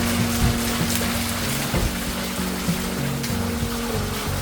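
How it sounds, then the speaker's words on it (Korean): Water wheel turning beside a stream in a park, with a steady loud wash of flowing, churning water and a low rhythmic mechanical rumble throughout, with no voices. "시원한 봄바람을 맞으며 물레방아 혼자서 쓸쓸히"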